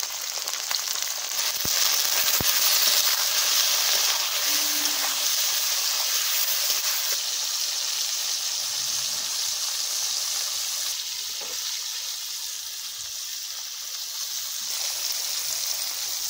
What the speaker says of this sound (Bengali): এবার কলার থোরগুলোকে ভেজে নিচ্ছি। কড়াইয়ে দিয়ে দিচ্ছি তেল